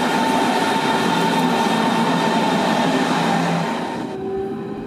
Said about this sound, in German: An Gleis 3 startet dann jetzt auch unser Zug, den wir in Richtung Wartenberg nehmen.